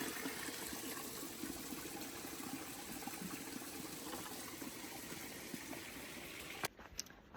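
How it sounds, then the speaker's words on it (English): Small waterfall on a mountain trail swollen by overnight rain, a steady broadband rush of falling water heard close and unbroken, with a few faint knocks near the end. "it's a cute little waterfall"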